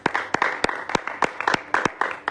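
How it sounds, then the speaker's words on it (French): A church congregation claps in a steady, fairly quick rhythm of sharp, close hand claps, about ten distinct beats, with no talk over them. "On acclame fortement la parole de Dieu"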